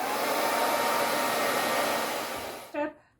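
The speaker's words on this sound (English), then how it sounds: "now let me get out my blow dryer" A handheld blow dryer roars steadily while drying painted wooden blocks, then switches off near the end with a brief whining spin-down.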